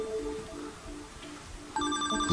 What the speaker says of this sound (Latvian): pacēl paskaties, kas tur zvana